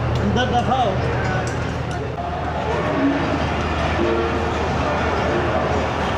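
The Awam Express 14DN pulling out of Rawalpindi station, a steady loud rumble of the moving carriages with voices murmuring throughout.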